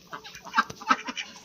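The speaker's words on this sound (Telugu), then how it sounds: "ఇగో మా బాతులు" Ducks at a home in the evening darkness give a run of short, nasal calls in quick succession, close by and moderately loud, with no talking.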